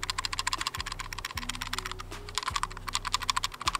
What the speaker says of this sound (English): Another thing I noticed for this exact pistol is the trigger mechanism is rattling a bit.